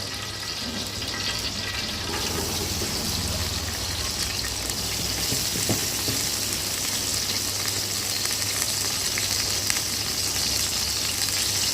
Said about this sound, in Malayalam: ഓണിയനും കറിവേപ്പില ഇതൊന്ന് നല്ല അങ്ങനെ ഒന്ന് ഫ്രൈ ചെയ്തെടുത്ത് ഇങ്ങനെ ചെയ്യാം.